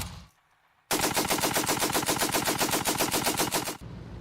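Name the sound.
anti-aircraft machine gun fire sound effect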